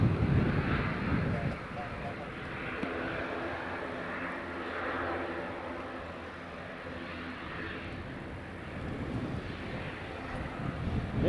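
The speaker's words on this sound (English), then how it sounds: "Loganair Edinburgh is just on final" A Loganair aircraft on final approach at Edinburgh Airport on a windy day, a broad, steady engine roar at a distance with wind rumble, holding fairly constant throughout.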